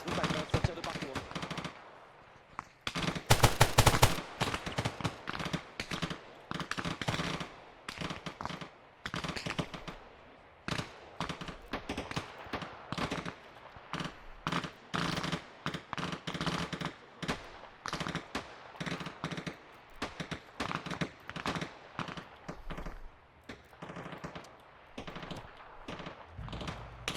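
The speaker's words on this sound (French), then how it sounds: "on est au contact, hein, ça tire de partout." Rapid machine gun and rifle fire in Arma Reforger during a firefight set in 1980 France, steady crackling bursts near and far over the whole stretch with one loud close volley early on.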